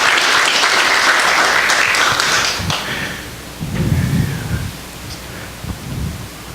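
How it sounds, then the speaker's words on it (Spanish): Congregation applause fills a church service: a dense, steady wash of clapping for about three seconds, then fading into quieter, scattered low rumbles. "Denle un aplauso al Señor,"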